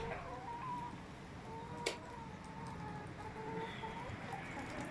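Chickens cluck softly and intermittently nearby, with a single sharp click partway through.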